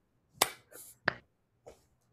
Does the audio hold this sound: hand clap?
yes